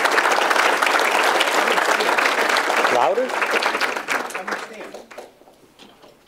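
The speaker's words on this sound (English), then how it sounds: "So can we have a round of applause for them?" Audience applause fills a hall of fame induction dinner, loud and dense for several seconds before thinning and fading out, with a voice speaking briefly partway through.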